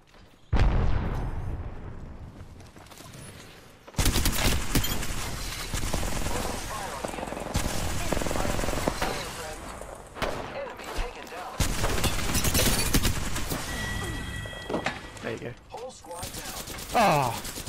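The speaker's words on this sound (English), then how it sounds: "I'm getting shot at." Heavy gunfire is aimed at the player in a shooter game, with bursts of rapid shots and loud impacts coming in waves between brief quieter gaps, while a player talks over it.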